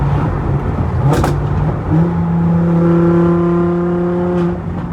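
Supercharged V10 engine in an Audi R8 revving hard through a couple of downshifts, with rising and falling harmonic engine tones and a sharp throttle blip, loud and close with no talking.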